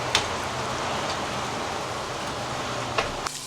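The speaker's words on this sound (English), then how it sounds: "Oh my god, it has started raining." Rain starting to fall during Ghana's rainy season, a steady broadband hiss of drops on surfaces heard from indoors near a window, with a low constant hum underneath and a couple of brief louder spatters.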